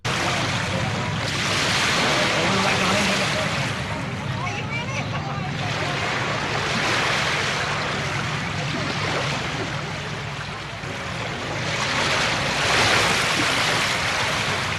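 Loud, steady ocean surf with rolling waves and wind buffeting the microphone, a continuous wash of water sound that swells and eases over several seconds, with no voices.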